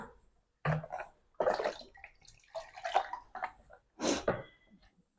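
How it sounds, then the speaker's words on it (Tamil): Water is poured into a pan of soya chunk and potato gravy in several short splashing bursts separated by brief pauses, close by and fairly quiet. "தண்ணி இன்னும் கொஞ்சம் ஊற்றிக்கலாம்"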